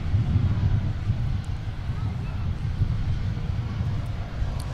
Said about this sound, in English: we're getting pretty close to the departure of Delta 152 Heavy with the 330-300 headed to Paris, Charles de Gaulle this afternoon